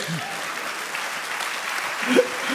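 A church congregation applauds during a sermon, a steady wash of many hands clapping throughout, swelling briefly near the end.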